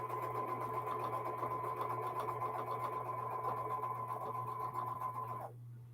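A sewing machine stitches quilt blocks of nine pieces in one steady, continuous hum that runs alone and then stops near the end.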